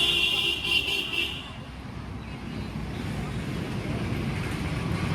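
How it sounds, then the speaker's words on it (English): A car horn toots briefly over roadway traffic noise by a city pillar shrine in Thailand, followed by the steady rumble of passing vehicles. "many cars honk their horns as they go by"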